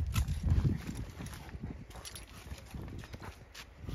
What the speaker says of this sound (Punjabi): ਆਏ ਜੀ ਨਵਰਤਨ ਦਾ ਵਧੀਆ ਘੋੜਾ,